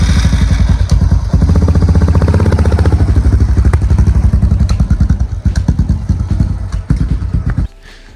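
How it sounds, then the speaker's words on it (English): A Suzuki DR650 SE dual-sport motorcycle runs with its fuel tank removed, its single-cylinder engine thumping loud and close in a rapid, even rhythm, then blipping unevenly before dropping to a quieter idle at the end. "about to test ride the bike now without a tank, just with the fuel and the carb"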